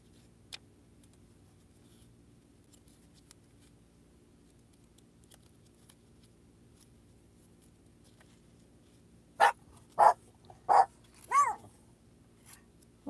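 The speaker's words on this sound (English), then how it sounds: "Why are you guys barking?" After a long quiet stretch, a dog barks four or five times in quick succession, fairly close, then falls silent.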